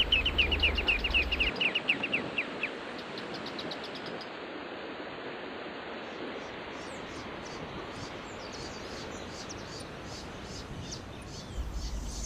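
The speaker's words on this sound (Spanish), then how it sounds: "Esta es una pareja de espinero grande, delimitando su área de exclusividad." A pair of great thornbirds calling to defend their territory: rapid chattering notes, loudest in the first couple of seconds, then continuing more faintly through steady outdoor noise.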